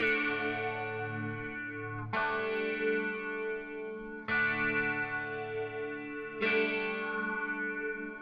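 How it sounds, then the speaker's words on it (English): Electric guitar strums sustained chords, changing roughly every two seconds, with a warm effected tone and ringing decay. "We do add this cool guitar part,"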